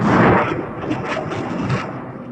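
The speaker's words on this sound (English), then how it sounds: "The Syrian military says this video shows it firing missiles in response to Israeli attacks on Damascus suburbs." Syrian military missiles fire in a sustained, loud, broadband roar with a rushing, wind-buffeted quality that swells and holds steady through the short stretch, with no voices.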